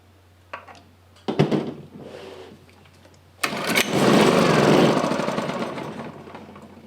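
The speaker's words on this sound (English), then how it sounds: "so when I run the engine" Toro T800 generator engine with a few sputtering, uneven bursts, then catching and running as a loud, steady close drone that slowly eases off, with a low hum underneath throughout.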